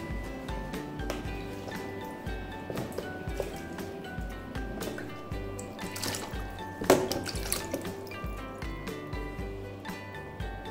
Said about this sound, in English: before we cut the potatoes, we are going to wash them.